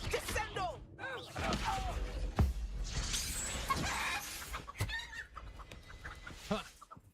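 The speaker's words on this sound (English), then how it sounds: "Chicken." Chicken clucking in the game Hogwarts Legacy: a run of repeated squawks and clucks with a sharp crash partway through, while a player talks over it.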